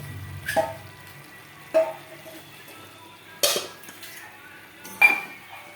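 A pot of meat with potatoes is set on to cook, heard as four separate metallic clanks of pot, lid and utensils spaced a second or two apart over a quiet kitchen background.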